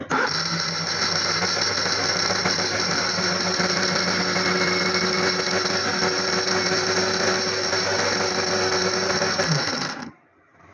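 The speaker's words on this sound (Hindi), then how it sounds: "अब हम इसे अच्छे से ब्लेंड कर लेंगे पहले।" A motorized blender whirs steadily and loudly for about ten seconds blending falsa (phalsa) berries with water into juice, then cuts off abruptly, leaving near silence.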